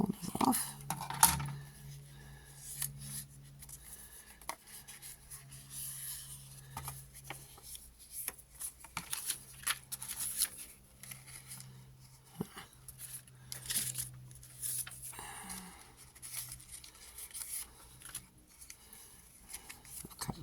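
Scissors snip the corners off a sheet of printed vellum in a quiet crafting session, giving soft, sparse, close cuts and paper rustles spread over time while a voice talks quietly.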